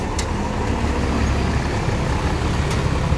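Large coach bus passing on a road at night, a steady loud engine and tyre roar filling the whole clip, with traffic noise around it and no talking.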